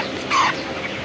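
A single brief cluck from a chicken rises over steady background noise in a poultry farm where birds are being raised for about a month.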